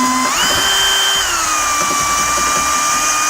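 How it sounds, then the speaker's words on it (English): A power drill bores a 1/2 inch hole into the front of a vehicle while a tow base plate is fitted. The close, loud whine rises in pitch as the motor spins up, then holds steady with slight drifting. "we're going to drill a 1/2 inch hole in our front hole here"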